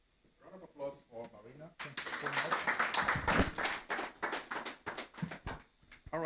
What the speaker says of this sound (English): Round of applause for Marina.